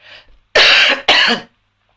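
Two harsh, forceful coughs close up, one right after the other, following a faint breath, then silence.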